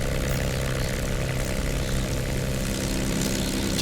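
Propeller engine of a P-51D Mustang in the DCS flight simulator, a steady, loud, continuous drone with a deep low rumble running unbroken throughout.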